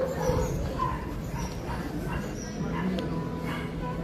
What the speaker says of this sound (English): They got like dogs, puppies.